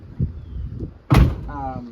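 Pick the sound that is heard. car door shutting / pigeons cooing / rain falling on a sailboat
car door shutting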